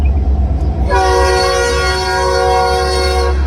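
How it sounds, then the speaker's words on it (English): Loud rumble of a train with a sustained horn blast that begins partway through and holds steady, close by, passing the Blue Front Café in Bentonia, Mississippi. "there goes the train."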